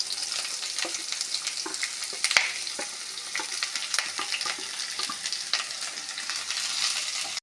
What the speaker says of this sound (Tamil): நீளவாக்கில் நைஸாக அரிந்து வைத்துள்ள வெங்காயம் மற்றும் பச்சை மிளகாயை சேர்த்து நன்றாக வதக்கவும்